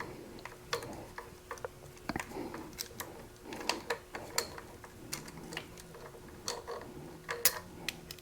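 Repeated clicking of a 4mm Allen key loosening two bolts on an offset perch mount of a Honda Goldwing motorcycle: quick irregular ticks and ratchet-like clicks, close and fairly faint, with no talking.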